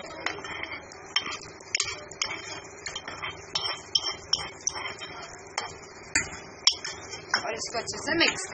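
A spoon clinks and scrapes against a bowl in repeated irregular strokes as brinjal raita is stirred, close up, with some talking in the background.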